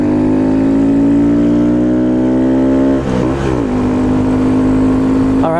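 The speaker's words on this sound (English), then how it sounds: "There we go, full throttle on the grom." A Honda Grom motorcycle engine held at full throttle gives a loud, steady, buzzing roar heard close up, with a brief dip and wobble in pitch partway through before it settles again.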